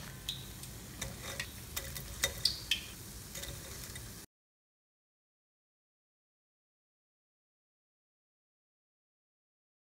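Onion pakoda fries in hot oil, a soft, steady sizzle with light ticks and scrapes for about four seconds before cutting to silence.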